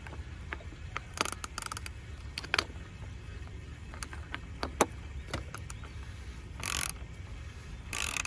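Ratchet tightening the oil drain plug on a Mercedes-Benz during an oil change, quick series of close metallic clicks in short bursts with brief pauses, fairly quiet and without speech.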